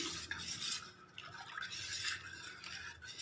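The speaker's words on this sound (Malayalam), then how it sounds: "തേൻ ചേർത്ത് കൊടുത്തതിന് ശേഷം നന്നായിട്ട് ഇളക്കി കൊടുക്കാം." A spoon stirs honey into carrot juice in a glass or jug, giving faint, close swishing and light clinking that rises and falls in a few strokes, with no talking.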